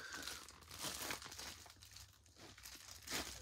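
A cardboard or plastic Amazon shipping package is torn open up close, with quiet bursts of crinkling and ripping in uneven pulses, faint and without talk.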